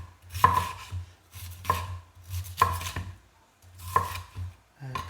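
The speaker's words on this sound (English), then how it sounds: "And then I'll chop the pepper into" A knife chops a bell pepper into slices on a cutting board, giving four sharp, evenly spaced strokes about a second apart, close and clear, with a low background hum and no talking.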